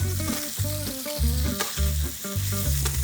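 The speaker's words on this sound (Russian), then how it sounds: "Сковорода с маслом уже хорошо разогрелась, теперь мы можем обжарить индейку" Small cubes of turkey fry gently in hot oil in a pan over low heat, with a steady, close, continuous sizzle and crackle.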